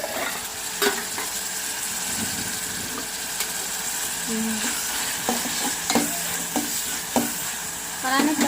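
Tomatoes frying and being stirred in a pan, with a steady sizzle underneath and scattered scraping and clinking of the spoon against the pan over about eight seconds. No one speaks.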